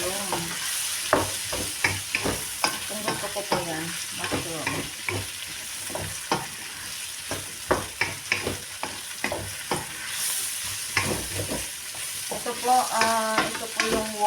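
Mushrooms stir-fry in a wok under a continuous sizzle, broken by frequent scraping strokes and clacks of the utensil against the pan at an irregular, busy rhythm, close and fairly loud.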